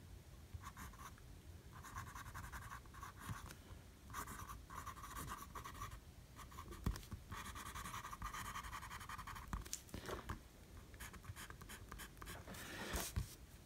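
Scratchy strokes of a Lamy Safari fountain pen with its standard medium steel nib crossing paper in short, repeated cross-hatch bursts with brief pauses between them, close and quiet, with no talking.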